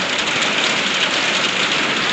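Heavy rain falls in a steady, loud, even hiss that fills the whole stretch without letting up, with no talk.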